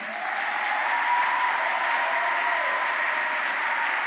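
A church congregation claps and cheers steadily for Jesus in a sustained, dense wash of applause from start to finish, with no distinct voices standing out.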